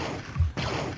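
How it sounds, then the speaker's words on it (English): A short laser-shot sound effect from a Pac-Man port for the TRS-80 Color Computer, two loud buzzy electronic bursts in about one second split by a brief dip, with no speech. "there's a laser shot, and I think that's there's actually, I think, 2 laser shots in there, and that's the short one."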